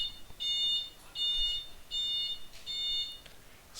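An e-bike alarm sounds in repeated high electronic beeping bursts, four evenly spaced pulses of about half a second each, steady and fairly loud in the background, with no speech.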